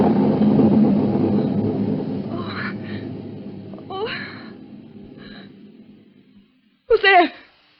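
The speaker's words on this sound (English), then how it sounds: "It was only thunder." A long, low rumble of thunder opens a radio suspense drama, rolling loudly and then fading over several seconds. Breathy, whispered voice sounds follow it.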